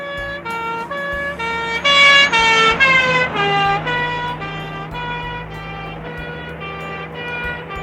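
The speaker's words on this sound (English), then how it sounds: "Police Car." A toy police car siren wails in a steady electronic tone that sweeps up and down, loud and close, with a low hum underneath and no voices.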